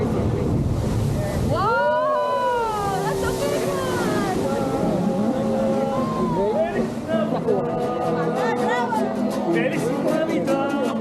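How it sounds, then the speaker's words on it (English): Ocean waves surge and crash against the rocks in the narrow sea channel of La Bufadora blowhole near Ensenada, Mexico, a steady roar with wind buffeting the microphone while people exclaim and talk over it. "The Bufadora Blowhole is formed by waves crashing against rocks that are located in a narrow channel extending into the ocean."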